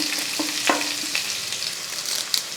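Sliced onions frying in a pan with mustard seeds for a lunch dish, a steady close sizzle with scattered pops and light stirring scrapes, no talk.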